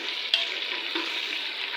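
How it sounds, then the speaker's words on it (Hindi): Chicken pieces fry in a pan with a steady, even sizzle, joined by a couple of brief clicks as they are stirred, close up and with no voices. "चिकन फ्राई हो रहा है।"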